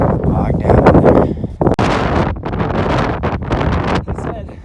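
Gusty wind buffets the microphone on a snowy mountain trail in the Weminuche Wilderness, a loud, continuous broadband roar with brief dips, while a person talks over it.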